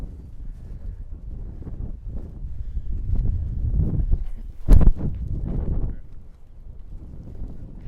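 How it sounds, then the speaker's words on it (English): Roughly 15 mph crosswind gusting across an open disc golf course at Belton, buffeting the microphone in low rumbling surges that swell in the middle with a brief sharp knock, then ease off. "We've got a nice like 15-mile-per-hour crosswind here"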